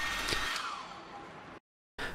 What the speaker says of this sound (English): Take a hairdryer and heat display surface for 1 or 2 minutes